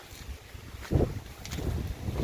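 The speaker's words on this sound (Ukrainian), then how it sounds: "вітер тільки" Gusty wind rumbles and buffets the microphone in uneven bursts in an autumn apple orchard, a steady outdoor roar with no voices.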